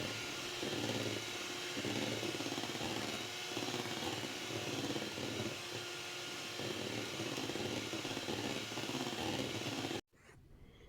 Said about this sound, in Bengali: ডিম যখন বিট করি আমি সবসময় বিটার স্পিড মিডিয়ামে রাখি।